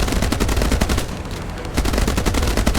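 Sustained automatic gunfire in the pirate-themed naval survival game Age of Water, rapid loud bursts rattling almost continuously with a short lull in the middle before firing resumes.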